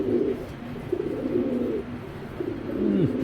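A pigeon cooing close by in repeated low, rolling phrases, with short pauses between calls.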